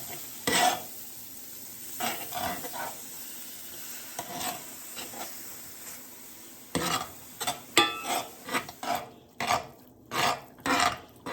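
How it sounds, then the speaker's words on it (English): A spoon or whisk stirs flour-and-butter gravy with milk in a pan for fried pork chops, giving repeated scraping strokes over a soft sizzle, growing louder and more rhythmic toward the end, with no talking. "And you'll want to constantly stir this. I'm just going to stir it."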